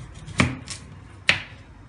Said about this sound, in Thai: เราก็เลยจะหั่นเป็นชิ้นๆก่อนนะคะ